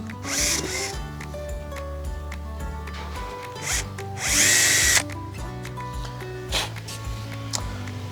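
A cordless power drill boring small pilot holes for the screws of hook and band hinges on a domestic gate, with short whirring bursts that start and stop, close by, and one louder, harsher stretch in the middle.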